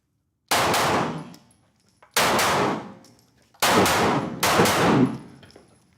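A Glock pistol fitted with a Meta Tactical MX1 fires four loud, sharp reports indoors in a shoot room, each ringing off the walls, the last two close together.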